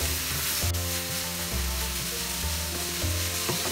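Grated carrots sautéing in ghee for carrot halwa over medium heat, a dense continuous sizzle with occasional stirring scrapes, close and loud.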